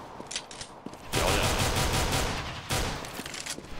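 Heavy automatic gunfire from the video game CS:GO erupts in two dense sustained bursts, loud and close, with lighter scattered shots before them and no talking.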